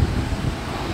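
Strong, cold wind buffets the microphone in a steady, low roaring rush, loud and close, with no voices, in Japan.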